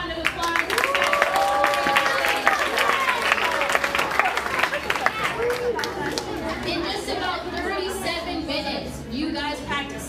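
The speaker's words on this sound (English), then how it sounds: "Give yourself a round of applause." A group of volunteers at a meal-packing event applauds themselves, with steady clapping mixed into loud chatter and voices filling the room throughout.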